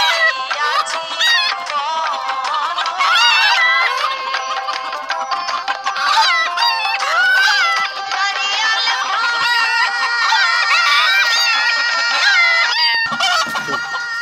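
Chickens in a coop on a desert farm keep up a loud, dense chorus of overlapping clucks and calls that barely pauses throughout.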